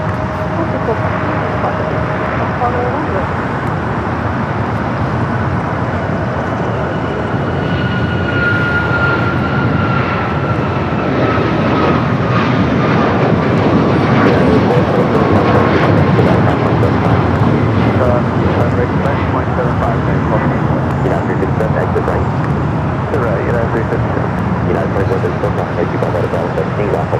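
A Boeing 747 cargo jet takes off from runway 25 left at LAX, a loud, sustained engine roar building and then slowly fading, with people talking over it throughout.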